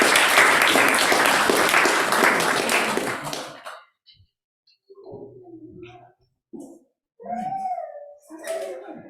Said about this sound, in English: we should applaud the parents for just their diligence and all of their support